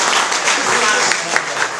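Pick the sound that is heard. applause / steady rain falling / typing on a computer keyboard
applause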